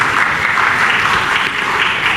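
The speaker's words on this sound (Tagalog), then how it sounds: "Hindi po ako ang pinapalakpakan nila, yung sarili po nila." Government officials applaud together at a formal event, dense steady clapping filling the whole moment without a break.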